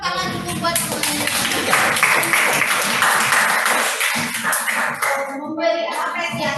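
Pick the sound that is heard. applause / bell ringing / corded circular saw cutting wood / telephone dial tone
applause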